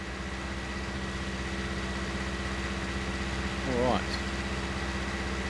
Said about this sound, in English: So we're going to go back up to the other tractor.